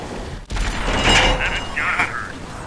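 A World of Tanks E50 fires its tank gun at an enemy M103: a sharp blast near the start, then a rumbling boom and mechanical clatter from the game, with voices over the mix.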